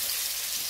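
Onion cooking in hot olive oil makes a dense, even hiss of sizzling, loud and steady for a brief moment with no voices.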